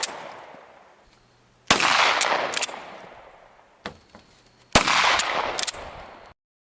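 Handgun shots from a Glock 19 fired with the muzzle pressed against the target, two sharp loud reports about three seconds apart, each followed by a clattering tail, with fainter clicks between.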